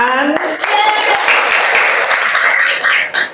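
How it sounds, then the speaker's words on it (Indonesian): Schoolchildren in an Islamic religious education classroom break into clapping mixed with lively young voices calling out, a dense, close burst of sound that carries on steadily for several seconds. "Tepuk tangan."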